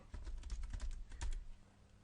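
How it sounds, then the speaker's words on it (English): Keystrokes tap on a computer keyboard, a quick run of close, crisp clicks at an uneven rhythm lasting about two seconds, with no voice. "4 keystrokes."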